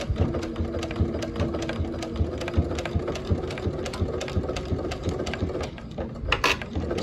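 Sewing machine stitching bias tape onto a clear vinyl apron, a steady rapid mechanical whir with dense needle ticking running continuously, close and alone with no talk.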